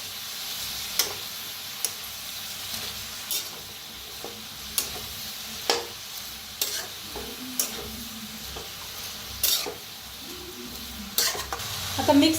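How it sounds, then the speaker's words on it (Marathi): Vegetables stirred in a frying pan before fresh peas go in, a steady sizzle broken by repeated scraping and clinking of a spoon against the pan, fairly close and moderately loud, with no talking. "आता एकदा जरा मिक्स करून घेऊया।"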